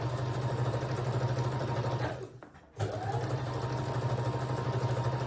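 Sewing machine stitching a seam in recycled denim fabric, a steady loud mechanical whir that stops briefly midway, then resumes running continuously.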